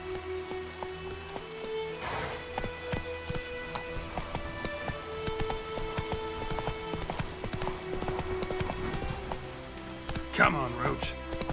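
Roach, the horse in The Witcher 3 video game, trotting with a steady rhythmic clip-clop of hooves alongside game ambience and rain-like patter, with a voice speaking over it.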